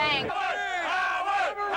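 Large crowd of fans cheering and shouting outside a Howard Stern book signing, a loud continuous roar of many voices with whoops rising over it throughout.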